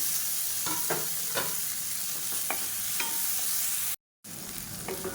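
Onions and tomatoes sauté in a pan for a curry paste, sizzling steadily while a spatula scrapes and taps the pan at irregular intervals, near and alone with no voices, briefly cut to silence near the end.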